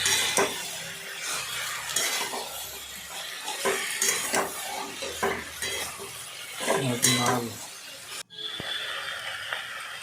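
Chili and cumin powder being stirred into small mourala fish and onions in a pan: repeated scraping utensil strokes against the metal over a continuous close sizzle, with a brief pause near the end.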